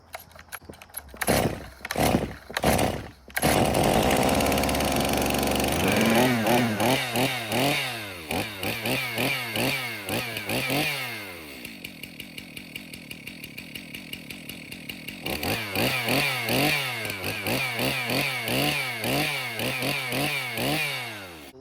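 A Stihl MS362 chainsaw pulls over a few times, then fires and runs loudly, revving up and down in repeated bursts with a quieter idling stretch midway before revving again.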